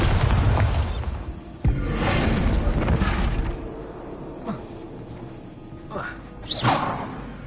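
Bombarda spell effect with a heavy booming blast and whooshing burst near the start, fading into lighter thuds and swishes, with a voice speaking amid the effects.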